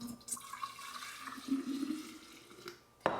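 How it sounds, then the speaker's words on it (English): Homemade ginger syrup poured from a pot into a measuring cup, heard as a soft, continuous liquid trickle that ends with a brief clink. "we're gonna transfer this to the measuring cup"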